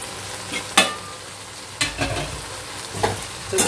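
Shredded chicken stirred and fried with spices in a pan: a low steady sizzle broken by several sharp scraping and knocking strokes of a spatula, close up, without speech.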